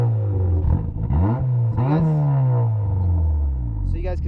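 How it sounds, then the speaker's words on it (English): The engine of a 300-horsepower Mazda Miata revs repeatedly through its exhaust, rising and falling in pitch several times, loud and close. "turn on your car and give me a couple revs so we can hear the exhaust"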